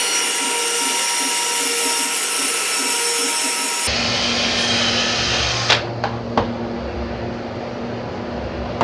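A vacuum cleaner drones loudly and steadily while cleaning out the intake runners of a 2011 VW Mk6 GTI engine, its tone shifting partway through as it works, followed by a few sharp knocks.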